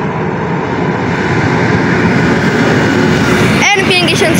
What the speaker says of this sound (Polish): Wjazd Regio Gwda z Kołobrzegu.